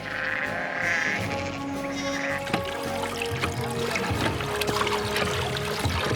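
Large mob of over a thousand male wether sheep bleating together at an outback camp, a loud continuous chorus of overlapping calls near and far with steady background noise.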